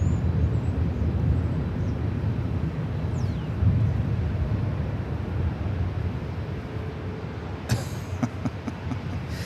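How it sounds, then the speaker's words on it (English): An Avianca airliner bound for Guatemala City taking off from runway 24 left at LAX, a steady loud jet roar that fills the scene and fades slightly, with a brief rattle near the end. "Avianca heading to Guatemala City. Next takeoff here on the north side, 24 left."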